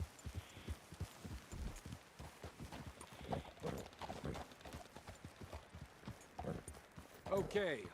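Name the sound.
horse hooves in Red Dead Redemption 2, video game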